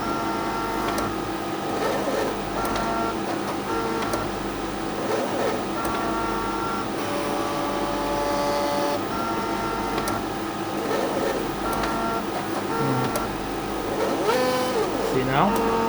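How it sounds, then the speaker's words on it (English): A gas chromatograph autosampler runs its syringe washing steps, a steady mechanical whirring and clicking of small motors moving throughout, with a person speaking over it. "This is just washing steps for the syringe."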